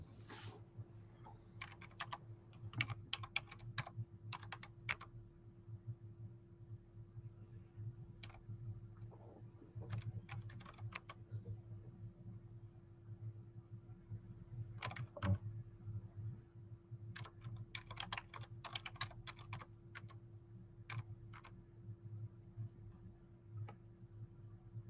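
Quiet bursts of typing on a computer keyboard, short clusters of light clicks separated by pauses, over a low steady electrical hum in a room.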